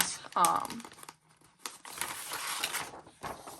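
Sheets of thin printing paper, around 24-pound weight, are handled and crinkled in a brief rustle, with a brighter crumple near the start and softer shuffling afterward.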